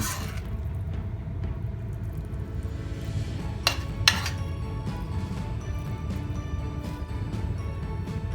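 Stir-fried wild garlic leaves with minced pork being spooned from a pan onto a plate in a kitchen: a few metallic clinks and scrapes of utensil on pan and dish over a steady low background rumble, with no talking.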